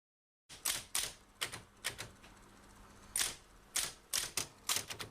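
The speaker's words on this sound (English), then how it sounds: "I'm typing up the chat sheet, Mr. McKeever." A typewriter clacks in an office, sharp individual keystrokes in irregular bursts after a brief silence, close and fairly quiet, with a pause midway before typing resumes, no voices.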